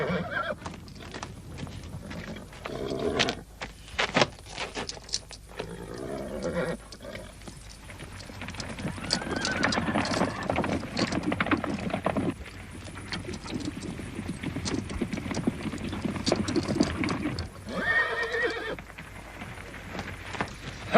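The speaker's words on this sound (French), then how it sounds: "Ah, j'ai ramené les chevaux." Horses in a 1934 John Wayne western clip-clop along with irregular hoofbeats and whinny several times, fairly near, while faint voices and outdoor movement continue underneath.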